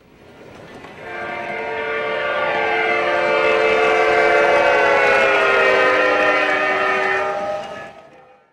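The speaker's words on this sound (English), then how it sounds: "whenever the train passes this spot, the Doppler loop will activate all by itself." A Proto Sound 2 model locomotive horn sounds as the engine passes, its Doppler effect triggered automatically, swelling in from silence, holding loud and steady, then fading away with a pitch shift.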